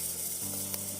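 Hot cooking oil sizzles steadily in a pan during scallop adobo preparation, a dense, close crackling hiss with a low hum underneath.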